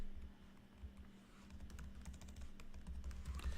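A computer keyboard clicks as a terminal command is typed, a quick run of close, light keystrokes that grows busier toward the end, quiet and with no voices.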